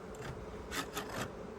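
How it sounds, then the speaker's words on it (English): A tool scrapes excess beeswax off a wooden hive frame, producing a few short rasping strokes, soft and close, with quiet background between them. "So I'm just scraping off this excess wax"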